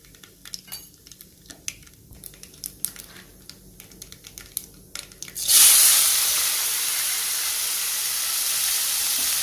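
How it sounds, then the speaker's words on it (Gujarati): Mustard seeds and cumin frying in a kadai in a home kitchen: scattered small crackles and pops for several seconds, then a sudden loud, sustained sizzling hiss that stays strong to the end, with no talking. "તો જો રાઈ જીરું તળી ગયા છે."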